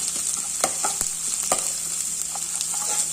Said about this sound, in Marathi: मोहरी जिरे आणि हे पेस्ट ही परतून घेऊया